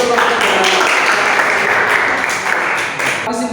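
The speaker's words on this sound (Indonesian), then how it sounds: "Tepuk tangan sekali lagi untuk kelompok 3." Classroom audience applauding a student presentation group, a dense, steady burst of clapping that runs the whole time and tails off at the end, with some talk mixed in.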